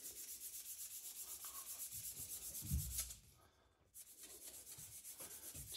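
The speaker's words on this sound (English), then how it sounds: "I'm just going to use a sanding stick" A sanding stick rubs rhythmically against the corners of a wooden wing strut for a Fokker D7 model aircraft, giving soft, repeated scratchy strokes up close, with a short pause near the middle.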